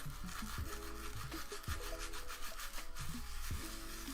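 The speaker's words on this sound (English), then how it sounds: "Just going to get some sandpaper. Start smoothing it out." Sandpaper rubs over a piece of wood in quick rhythmic back-and-forth strokes, close and steady, with a brief pause midway and no talking.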